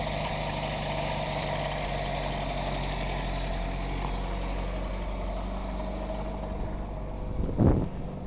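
A 1991 Chevrolet S10 pickup engine idles steadily and close by, a continuous low rumble that holds level throughout, with a brief louder surge near the end.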